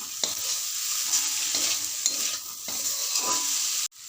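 Potato, bitter gourd and onion fry in a pan with a steady hiss, while a utensil stirs in several distinct scrapes near the end; there is no talk.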